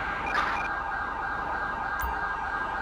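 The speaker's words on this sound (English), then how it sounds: "as they're blaring their siren code 3" A police siren wails steadily in GTA V with the LSPDFR mod, a strong sustained tone held at even volume for the whole stretch, with a faint engine hum underneath and no talking.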